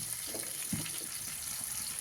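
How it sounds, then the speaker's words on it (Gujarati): Water pours into a cooking pot while a Kathiyawadi tempered bajra rotla dish cooks, a faint, steady trickle with a couple of brief splashes. "હવે આપણે આમાં પાણી નાખશું"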